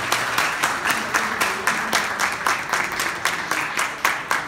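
An audience at an Urdu literary gathering in New York applauds, a dense, steady wash of many hands clapping with rhythmic pulses, close and loud throughout.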